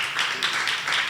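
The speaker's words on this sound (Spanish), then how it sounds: "Aplauso a Dios, no más." A church congregation claps in a short, brisk burst, many hands together in a steady, moderately loud patter with a few stronger pulses.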